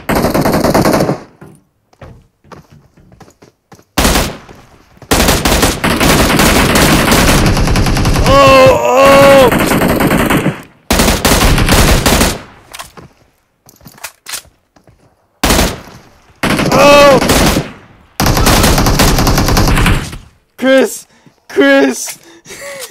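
An AK rifle fires in a video game in loud, rapid automatic bursts separated by short silences, mixed with a voice groaning and gasping.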